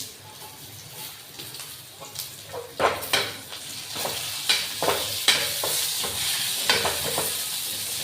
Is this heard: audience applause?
no